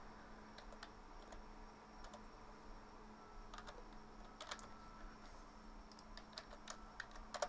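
Quiet, scattered clicks of someone typing a username on a computer keyboard, keystrokes arriving in small irregular clusters over a faint steady room hum.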